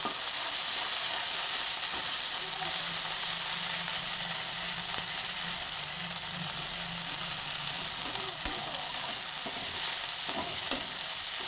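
A spice paste with ginger and garlic fries in oil in a pan for an amudi fish curry, giving a steady close sizzle with a few sharp stirring clicks near the end.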